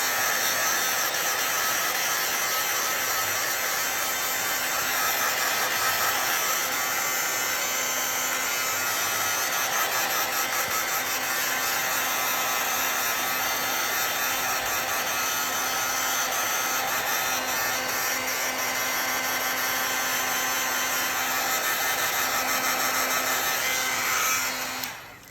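An old heat tool blows hot air to dry ink on a handmade Halloween card, giving a steady, loud, even whirring hiss that runs unbroken for about 25 seconds and cuts off at the end.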